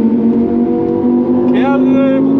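A Lamborghini engine holds a steady, loud, droning growl with a strong low hum, then swells slightly in pitch as it revs, heard up close.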